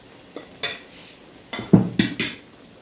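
Beef masala with pepper and spices stirred in a pan, a few sharp scrapes and clanks of a spoon against the pan in short bursts, with a faint sizzle between them.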